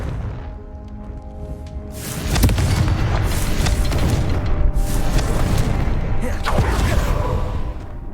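Confringo blasting spell in Hogwarts Legacy, a loud booming explosion that rolls on with rumbling crackle and debris for several seconds after a quieter start.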